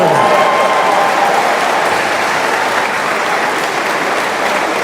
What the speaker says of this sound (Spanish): Un aplauso, Pepe.